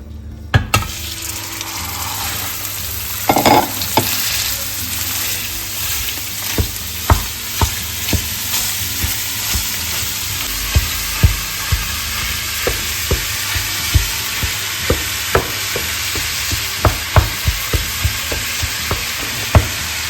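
A beef wrap reheating in a frying pan gives a steady broadband sizzle for twenty seconds, punctuated by a long run of sharp, fairly regular clicks and taps from the pan or utensil, close and fairly loud with no talking.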